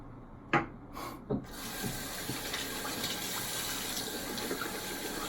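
A hybrid synthetic and badger shaving brush is rinsed under a running tap, which gives a steady hiss of flowing water. Two brief knocks come near the start, then the water splashes on without pause.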